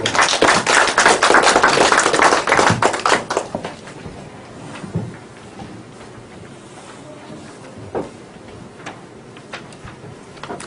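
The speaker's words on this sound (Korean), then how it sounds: "박수로 맞이해 주시기" Korean lecture audience clapping to welcome a literature professor: a burst of loud, close applause for about three seconds that thins quickly into a few scattered claps and quiet room sound.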